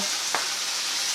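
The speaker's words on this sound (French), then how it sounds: "je vais ajouter maintenant des tomates. Et je vais laisser mijoter encore quelques temps." Tomatoes and vegetables simmering in a pan for a Russian buckwheat dish, giving a steady soft sizzle with one brief stir or clink partway through.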